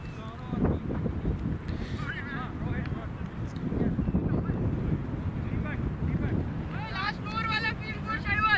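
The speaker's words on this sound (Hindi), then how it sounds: "बहुत तेज हवा लग रही है ना।" Strong wind gusting into a microphone outdoors at a cricket match, a constant heavy rumbling buffet that runs through the whole stretch, with voices in the background.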